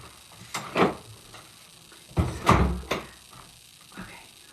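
A room door is pushed shut, giving a few dull wooden knocks and thumps spread over several seconds, fairly close and moderately loud, with faint background voices.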